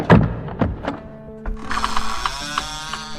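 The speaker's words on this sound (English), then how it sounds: "There was the sound of a bolt being thrown, and then the trapdoor lifted away" A metal bolt thrown back to open a wooden trapdoor: a few sharp clunks and thuds, then a scraping, creaking mechanical rattle as the door lifts, heard close and alone.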